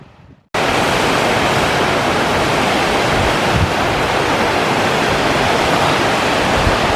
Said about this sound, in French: Voilà, petite cascade.